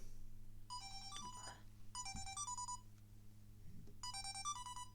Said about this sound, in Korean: 쓸데없는 전화 오네.